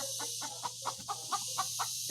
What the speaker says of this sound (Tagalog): Ayan po ang nanay, putak ng putak